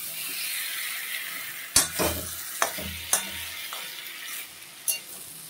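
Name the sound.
frying soybean, potato, beans and carrot in masala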